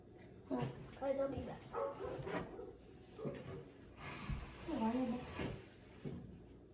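Dogs bark and yip at a neighbor in several short bursts, mixed with whimpering, heard indoors under and between people talking.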